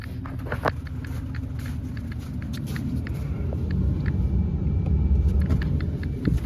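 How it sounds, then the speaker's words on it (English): A jammed salt spreader auger, freed and running again, gives a steady mechanical rumble that builds and holds, with scattered light patter and ticks of salt over a low, continuous motor drone. "Turn on the auger again for you."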